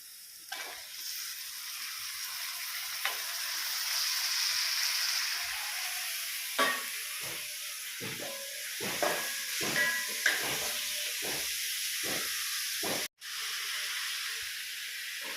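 Chicken pieces dropped into a pan of wilted onions sizzle and hiss steadily, with intermittent stirring scrapes and clinks close by and a brief sharp break near the end; no one talks.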